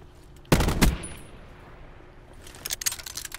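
Two quick loud gunshot bursts from a gun in Call of Duty Black Ops 4 Blackout, followed by a quieter lull, then a flurry of sharper distant shots and clicks near the end.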